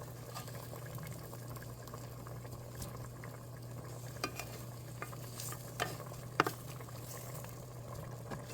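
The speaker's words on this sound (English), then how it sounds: "Stir well." A spoon stirs butternut squash in a soup pot, giving soft, faint scrapes and light taps over a quiet, steady hum of simmering liquid, with no voices.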